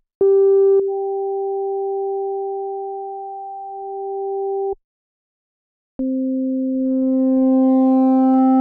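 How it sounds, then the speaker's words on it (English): A pure sine tone plays, stops, then returns lower through an Arturia Dist TUBE Culture pentode 3 tube distortion, turning buzzy and thick with added harmonics, steady and alone. "Pentode 3 adds the most harmonics, producing a much more complex sound."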